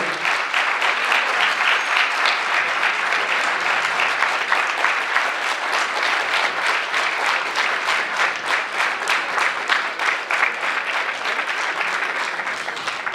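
Sustained loud applause from a theatre audience after a Hindi stage play, many hands clapping in a dense, even roar that pulses slightly toward the end and holds for over ten seconds.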